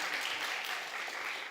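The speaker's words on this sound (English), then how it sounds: "You're supposed to clap for that." A graduation audience at the HLSCC 29th Graduation Exercise claps after a line in a student speech, a continuous moderate ripple of many hands spread through the hall with no talking over it.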